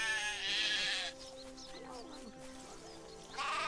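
A sheep in the Craft the World video game bleats in a wavering, drawn-out call between bursts of bright in-game ambience, loud and clear over a steady background tone.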